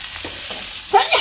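Prawns with spices fry in a pan with a soft sizzle, followed by two brief scraping stirs near the end.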